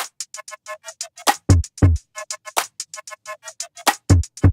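A punchy layered kick drum, built from a clap sample and a pitch-bent sine wave saturated together, thumps in an irregular beat pattern alongside short chopped melodic sample stabs in a produced hip-hop track.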